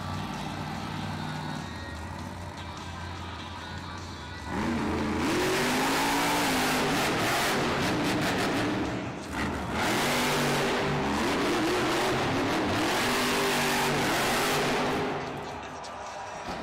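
Grave Digger monster truck engine roaring and revving during a Monster Jam freestyle run in an arena, loud sustained rising and falling engine notes over crowd noise, with a commentator talking over it.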